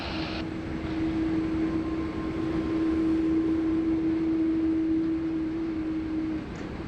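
A Jetstar Boeing 787-8 cargo jet taking off from runway 16 right at Sydney Airport, heard from afar as a broad steady engine roar with a sustained droning tone throughout, no talking.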